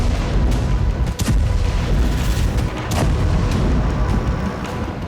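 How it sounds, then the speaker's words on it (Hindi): Israeli airstrikes hit Beirut's Dahiyeh district, heard as continuous heavy low rumbling with a couple of sharper booms, loud and sustained. "एक के बाद एक 15 स्ट्राइक से पूरा इलाका दहल उठा।"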